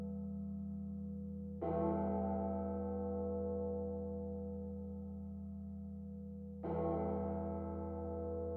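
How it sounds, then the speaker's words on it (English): Church bells toll ahead of a NARAS Cup Series stock car race at Pocono, two loud bell strikes about five seconds apart, each ringing out and slowly decaying over a steady low hum. "The bells are tolling."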